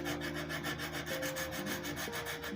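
Sandpaper in a channel rubs against the frets of a Portuguese guitar under restoration, producing a soft, continuous, rhythmic scraping close by and at low volume, with no speech.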